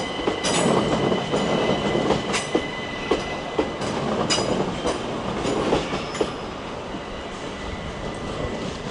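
Class 377 electric multiple unit 377405 rolling through Clapham Junction toward London Victoria, a steady rumbling drone with repeated wheel clicks over rail joints and faint squeals, fairly close and continuous, without talk.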